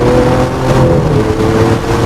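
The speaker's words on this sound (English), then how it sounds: "7-speed independent shifting rod gearbox that can click off gear changes in a mere 50 milliseconds" A 2015 Lamborghini Aventador Roadster with a 7-speed single-clutch gearbox accelerating hard, a loud close engine roar whose pitch climbs and dips briefly as a gear change clicks through.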